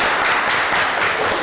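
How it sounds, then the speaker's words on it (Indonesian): Students in a democracy lesson applaud together, a brief burst of dense, continuous clapping from a roomful of hands, loud and close throughout. "terima kasih, tepuk tangan"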